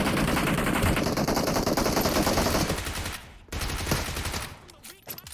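Dense automatic gunfire from PUBG Mobile rattles loudly in rapid bursts for about three seconds, then breaks off into scattered shots and quieter pauses.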